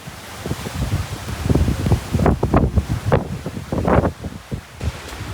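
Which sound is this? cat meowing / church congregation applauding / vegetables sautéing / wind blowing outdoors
wind blowing outdoors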